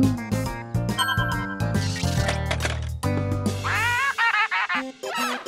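Cartoon duck quacking in a children's animated show, a run of bright nasal quacks over playful music, ending in several short choppy quacks.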